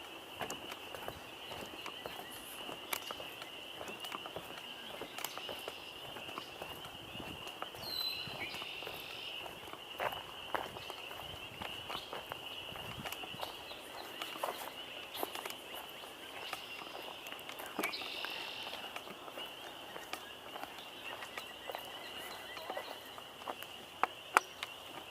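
A faint, steady chorus of frogs calls outdoors on an April day, a continuous distant trilling with scattered soft rustles and no speech.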